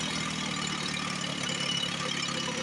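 A small outboard motor, suspected of a failing fuel pump, runs steadily with a rough, continuous mid-pitched drone and no pauses or talk.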